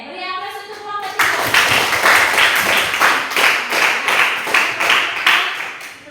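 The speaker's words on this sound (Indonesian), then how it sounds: "beri aplaus untuk kelompok 3" A classroom audience applauds a student group after its presentation; a voice speaks briefly, then loud, rapid clapping from many hands follows and continues to the end.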